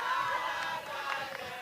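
Boys from Malawi cheering on their girls' team at a schools football championship final, a distant crowd of young voices shouting and whooping in a bright, continuous wash, fairly faint.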